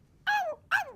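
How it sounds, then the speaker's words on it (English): Dog barking in the distance in an audio drama, two short sharp barks in quick succession, faint against a quiet background. "Dusty barks in the distance. What's that? It's only a dog."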